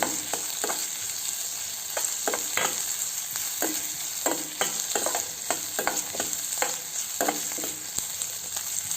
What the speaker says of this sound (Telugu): దీన్ని దోరగా అయ్యేంతవరకు ఫ్రై చేసుకుందాం.